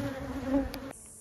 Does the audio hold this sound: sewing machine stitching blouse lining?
no